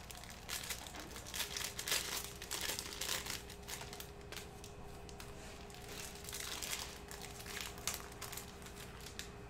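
Plastic cello wrapping crinkles and tears as a Panini Hoops basketball trading card pack is ripped open, a faint, continuous crackly rustling without speech.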